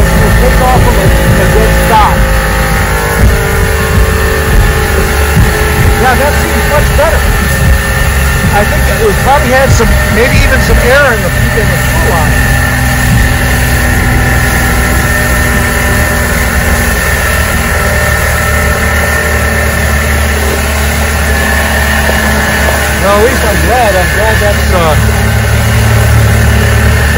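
A 1986 85 hp Force outboard motor runs roughly while starving for fuel, a loud steady engine drone with uneven surging throughout and people talking over it.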